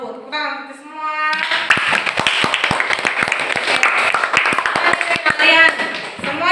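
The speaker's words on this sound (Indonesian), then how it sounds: "Tepuk tangan untuk semua." A classroom of students clapping hands together, a dense burst of many sharp claps building after a short spoken phrase and continuing steadily, with a voice heard at the start and again toward the end.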